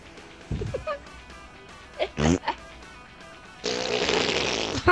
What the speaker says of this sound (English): this baby just farted